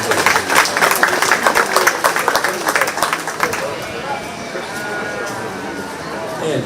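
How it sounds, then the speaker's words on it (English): An audience at a 4-H/FFA goat show class at the Shelby County Fair gives the young exhibitors a round of applause: sharp, close clapping for about three seconds that fades away as voices and arena murmur take over. "give those kids a big round of applause"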